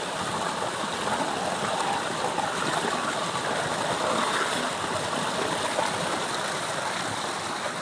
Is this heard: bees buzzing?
no